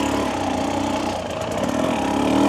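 A 2025 Husqvarna TE300 dirt bike engine holds a steady, loud rev close by, droning continuously with a slight rise toward the end.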